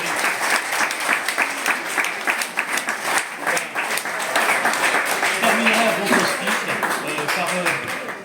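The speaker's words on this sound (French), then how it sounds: "Vous pouvez applaudir les mamans." Guests at an official wedding in Montmorency applaud the mothers, a full, lively round of clapping from a room of people that swells slightly toward the end, with a few voices mixed in.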